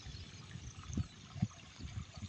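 Water trickles and flows in a rainy outdoor field setting, faint and steady with a few soft splashing surges; no talking.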